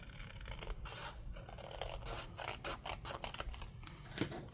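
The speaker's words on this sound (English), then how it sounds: "Let me grab my scissors, and I'm just going to go ahead and cut that" Scissors snipping along a line through a paper envelope for junk journaling, giving a run of quiet crisp cuts and rustles in an indoor setting, close by with no talk.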